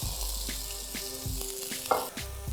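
Steady frying sizzle of potatoes in a hot pan, with a few soft clinks and scrapes of a utensil stirring through it.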